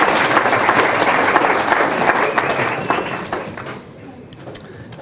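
Audience applause at a community fluoride discussion meeting, a dense wash of clapping from a room of people that stays loud, then thins out and fades toward the end.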